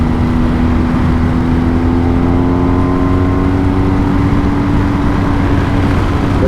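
A 2022 BMW R1250GS Adventure motorcycle rides with a steady, loud engine drone and heavy rumbling roar over cobblestones, with a slowly shifting engine tone and no talking.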